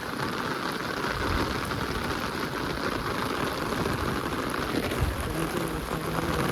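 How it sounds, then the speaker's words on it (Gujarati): Downpour of heavy monsoon rain drumming on the ground and surfaces outdoors, a constant loud wash of drops with no pauses and no voices. "તો મિત્રો જોઈ લો ફૂલ વરસાદ આવી ગયો છે અત્યારે"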